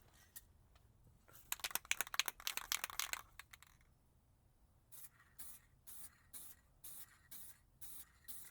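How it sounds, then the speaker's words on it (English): Spray paint hisses over the clear coat on a GMC Jimmy door with surface rust, first in a dense cluster of short bursts, then after a pause in evenly spaced, regular pulses, close and fairly loud. "I didn't like that that clear coat, so I'm going to try to paint over it."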